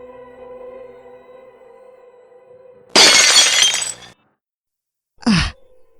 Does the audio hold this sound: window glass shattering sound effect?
yes